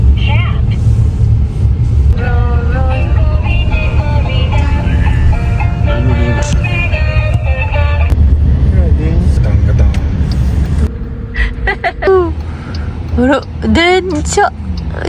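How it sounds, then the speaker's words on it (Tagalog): Road traffic in Kobe: steady loud rumble of passing cars and buses fills the scene, with music-like tonal sounds layered on top and chatter and other voices near the end. "Traffic."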